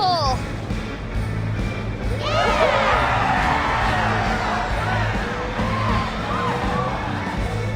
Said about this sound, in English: The cheering grows louder and louder.